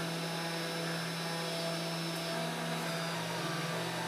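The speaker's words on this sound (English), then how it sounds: "We're vacuuming off the sawdust so we can see how much is left to remove." A vacuum cleaner drones steadily as it sucks sawdust off a wooden sign cut on a CNC router, a loud, constant whine and rush held for the whole stretch with no speech.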